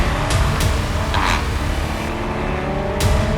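Skoda Octavia RS engine revving hard above 3,500 RPM, a loud, sustained drone with rising harmonics and brief bursts of higher-pitched noise, heard close and continuous with no talk.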